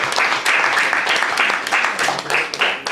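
Loud, dense applause from an audience at a magazine issue presentation, many hands clapping steadily and close throughout, with a brief voice underneath near the end.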